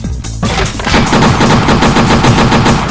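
Rapid, loud gunfire from a weapon attack in the fighting game Chaos Faction, a dense automatic burst that rattles on without a break after a brief opening shot.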